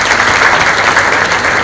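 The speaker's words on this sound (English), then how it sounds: "give them a hand clap" Wedding guests applauding at a celebration, a dense, steady burst of many hands clapping at once, loud and close, with no one speaking over it.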